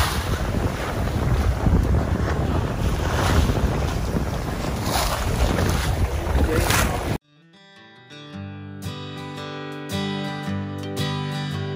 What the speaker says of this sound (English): we're just sailing over to Virgin Gorda